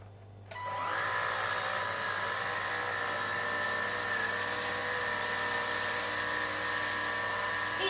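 A Bosch cordless vacuum cleaner starts up after half a second and then runs steadily, a loud, close, high-pitched motor whine with a constant hum, no talk over it.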